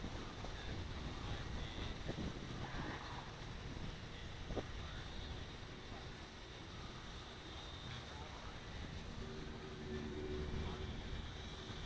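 Steady, loud wind buffets the microphone outdoors throughout while a Cheerson CX-33C Y6 tricopter drone flies in a breeze, with a faint low rumble underneath and no clear talk.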